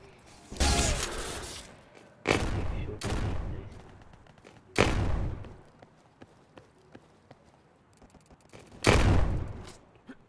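Gunfire in the gun race mode of a shooter video game comes as several loud, separate bursts of rapid shots spread over ten seconds, with quieter clicks and mechanical sounds between them.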